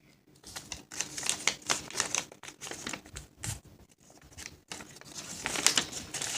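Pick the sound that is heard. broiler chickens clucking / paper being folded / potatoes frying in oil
paper being folded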